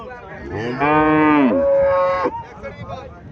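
A Haryana cow and her four-to-five-day-old calf give a loud, close moo that swells and holds, then slides into a steadier lower tone before fading.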